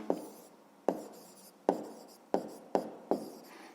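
A pen writes out a math problem's solution in a notebook: six crisp, close strokes taps at a roughly steady pace, each fading quickly, with no talking.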